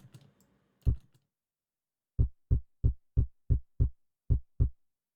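A synthesized kick drum shaped with a wave shaper and saturation, undamped, hits as a single punchy thump and then as a steady run of eight loud, deep, close kicks spaced evenly, with a little background noise at the start.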